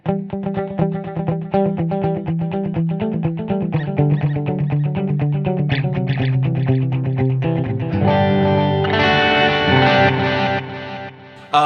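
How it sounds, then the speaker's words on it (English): Electric guitar through a Line 6 Helix Stadium XL with dotted-eighth and quarter-note delays, notes ringing out with layered repeating echoes cascading in rhythm, building into a denser, brighter passage near the end. "It's kind of like a trick to get two delays in one"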